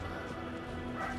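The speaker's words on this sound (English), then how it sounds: "I apologize if you guys hear a dog" A chihuahua barking upstairs in the background of a home, a faint, steady low murmur of small-dog yips and whimpers across the whole moment, with no clear close bark standing out.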